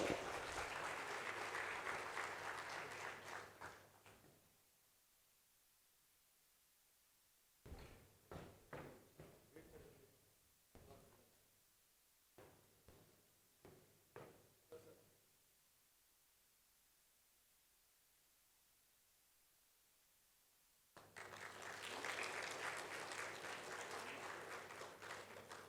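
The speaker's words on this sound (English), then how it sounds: "please give a round of applause" Audience applause at an investment and real estate summit, a loud sustained burst at the start and another near the end, with someone speaking at a microphone in the quieter middle.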